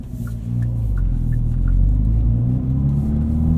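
A 2019 Hyundai Veloster N Performance Pack rumbles under way, its engine building into a deep, steady revving drone from the driver's seat, with faint ticking clicks early on.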